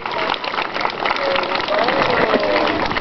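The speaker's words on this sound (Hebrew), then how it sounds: "בית ספר בחור לוי מקבל אותם במחיאות כפיים" Sustained applause from a crowd welcoming guests at a school Shavuot celebration, dense clapping continuing evenly throughout, fairly loud and filling the room.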